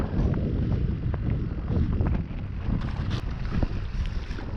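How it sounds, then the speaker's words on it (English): Wind buffets the microphone steadily during kayak fishing, a continuous low rumble with gusty swells and no talk. "It's kind of windy right here"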